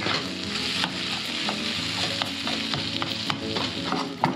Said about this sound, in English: That on a low simmer, let that stuff heat up, kind of blend together.